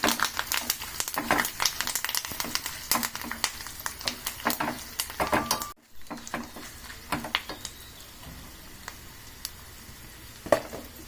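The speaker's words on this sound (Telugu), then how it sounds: "మంచిగా వేయించుకోవాలండి తాలింపును" Talimpu tempering spluttering and frying in a pan, with crackling pops and scraping stirs close by, a short pause midway, then quieter sizzling with occasional sharp pops.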